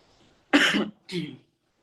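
Two quick, close human coughs from someone recovering from a cough, one sharp and one softer, separated by a short pause in an otherwise quiet space.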